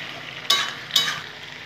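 A spoon stirs a vegetarian curry in a pan, two short scraping strokes over a faint, quiet background sizzle.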